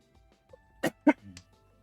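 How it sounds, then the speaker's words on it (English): Two short, sharp coughs close to the microphone, followed by a faint throaty trailing sound, in an otherwise quiet room. "my cough is still there, but getting better day by day"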